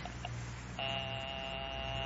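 A telephone rings in a 1950 radio crime drama with a steady electronic buzzing tone after two faint beeps, sustained and fairly quiet.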